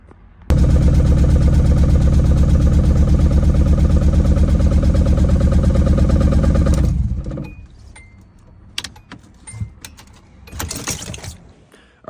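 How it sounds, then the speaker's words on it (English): A Nissan 240SX is cranked with the key and fires, its engine running loud and steady for several seconds before cutting off, followed by quieter clinks and handling noises. "I fixed the clutch safety switch, and now cranks with the key."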